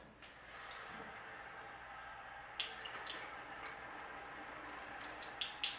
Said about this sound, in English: So what I'm going to do is add a bit of water.